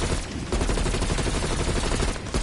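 An XM4 assault rifle fires in rapid, sustained automatic bursts in Call of Duty Cold War Outbreak mode, loud and close, with dense overlapping shots and a short break near the end.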